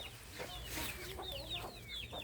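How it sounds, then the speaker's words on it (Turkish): Chicks cheep in short, high, repeated chirps while clucking fowl murmur close by, with steady low background noise. "Civcivler geziniyor."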